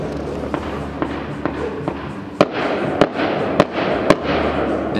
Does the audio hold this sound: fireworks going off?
yes